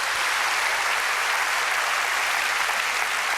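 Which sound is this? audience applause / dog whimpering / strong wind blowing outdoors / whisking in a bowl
audience applause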